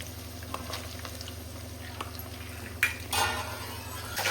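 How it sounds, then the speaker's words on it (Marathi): Paneer fries in oil in a kadhai, a soft continuous sizzle under a low hum, with clinks and stirring scrapes and a louder burst of frying toward the end. "आता पनीर तळायला लागले"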